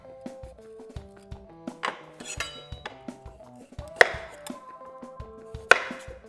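Kiwi being peeled and cut on a board, with scattered knife taps and a couple of sharp clinks over soft background music.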